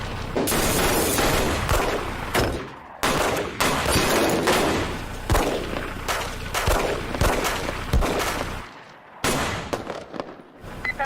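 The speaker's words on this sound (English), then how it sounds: "Code 33. Shots fired. Shots in the building." Gunfire erupts inside a school during a shooting, a loud, dense barrage of repeated shots and echoing bangs with short gaps, close and reverberant, with no speech.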